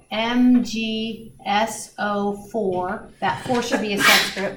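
A single sneeze bursts out partway through a classroom chemistry lecture, set among steady talking from the instructor.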